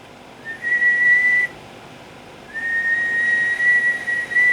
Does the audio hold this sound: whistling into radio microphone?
yes